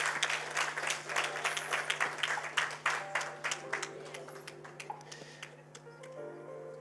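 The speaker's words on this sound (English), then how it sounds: "A huge round of applause for Dr." Audience applause at the Eswatini Young Academy of Sciences launch ceremony, a dense burst of clapping that is loudest at first, then thins and fades over several seconds, with a steady background hum.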